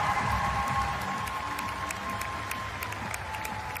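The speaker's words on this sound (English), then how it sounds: "Kim Mulkey applauding as Anessah celebrates after going 7 overall to the Connecticut Sun." A crowd at the 2025 WNBA Draft applauds and cheers after the Connecticut Sun's seventh overall pick, a fairly distant, steady wash of clapping with some whoops mixed in.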